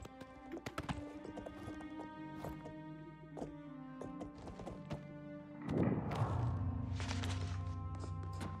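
A horse in Elder Scrolls Oblivion Remastered clip-clops with scattered hoof thuds and game clunks, then a louder neigh-like burst midway, close and unaccompanied by talk.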